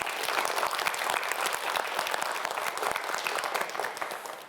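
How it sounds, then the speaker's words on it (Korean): Studio audience at a Korean TV quiz show applauds a student contestant, a dense, steady burst of many hands clapping close and loud throughout. "박태환 학생에게 박수 한번 보내주세요"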